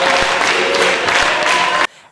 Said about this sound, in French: vous applaudissez 12 fois les mains